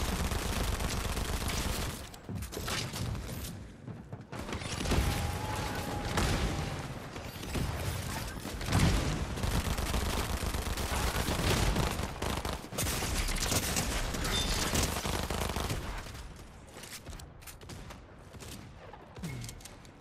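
Rapid automatic SMG fire and heavy shotgun blasts from the Fortnite video game, dense bursts of gunfire crackling almost continuously and loud for the whole stretch, with brief lulls between volleys.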